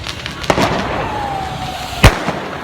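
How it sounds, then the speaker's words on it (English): Fireworks bursting outdoors on the Wednesday before Iranian New Year during the bonfire-night festivities, a few scattered cracks and pops with one loud sharp bang near the end over a constant noisy background. "No guys, it's not a riot, it's fireworks now."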